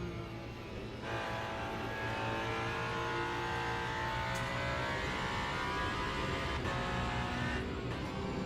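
Sustained engine roar from an LMP2 prototype race car in Le Mans Ultimate, loud and steady throughout with rising and falling pitch as it passes close by, no talking.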